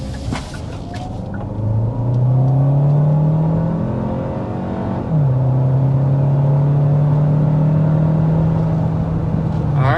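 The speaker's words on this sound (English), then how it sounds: "Alright, so that was just above 60 miles an hour going up a hill." A 2026 Hyundai Santa Fe hybrid with 227 total horsepower accelerates uphill to just over 60 mph, its engine droning loudly and rising steadily in pitch, dipping briefly as it shifts, then pulling on in a sustained interior hum.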